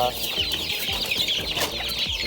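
Young chicks cluck and peep on a cold, rainy day, a continuous busy chatter of overlapping calls close by, with no one talking over them.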